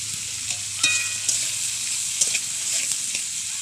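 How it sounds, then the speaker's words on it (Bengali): Chopped onion and capsicum fry with salt in a pan for egg pasta, a steady close sizzle broken by a few sharp scrapes and knocks of stirring. "পেঁয়াজের কুচিগুলো দিয়ে দিচ্ছি এরপর ক্যাপসিকাম, সামান্য পরিমাণ নুন দিয়ে ভালো করে ভেজে নিচ্ছি।"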